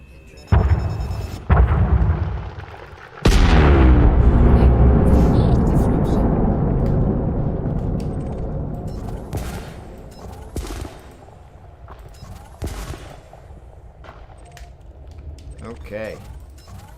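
Mining charges detonate in Elite Dangerous, a loud burst of explosive blasts followed by a long rumbling decay, with further crackling impacts and bursts later and a voice talking over parts of it.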